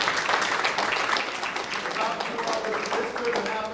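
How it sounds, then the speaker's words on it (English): Middle school students clapping for their parents at a school band concert, a sustained wash of applause with voices mixed in. "So kids, clap for your parents."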